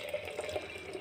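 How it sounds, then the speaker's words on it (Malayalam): Liquid pours steadily into a jar: blended Mexican mint (Indian borage) juice with jaggery and cumin, a close, soft continuous trickle with faint splashing ripples. "ഇനി നമുക്കിതൊരു ഒരു ജ്യൂസ് ജാറിലോട്ട് ഒഴിക്കാം"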